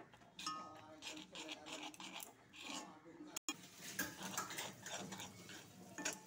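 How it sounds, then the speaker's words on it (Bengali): Chickpea and gram-flour laddu mixture stirred in sugar syrup, with uneven clinks and scrapes of a spoon against the pan, a moment of silence, and some low talk in the background. "চিনি শিরার সাথে ভালো করে নাড়াচাড়া করব, ভালো করে আঠা হইতে দিব বুটের সাথে"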